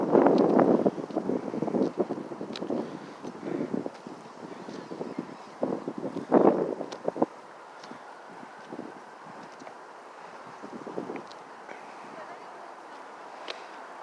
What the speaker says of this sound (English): This is where the wind comes in.